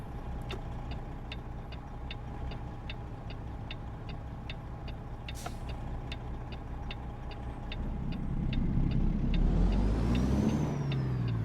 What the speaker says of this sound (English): But we are using the Kenworth Zeemods interior sound.